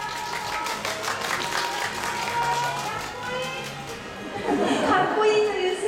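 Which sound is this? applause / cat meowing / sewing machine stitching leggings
applause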